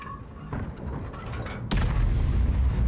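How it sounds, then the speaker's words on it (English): A GW E-100 tank destroyer's main gun booms once in a long-range tank video game, a sharp loud blast that follows quieter engine and battlefield rumble and leaves a sustained heavy roar. "I lock on and fire."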